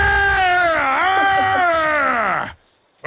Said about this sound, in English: Everybody, let's hear your war growl.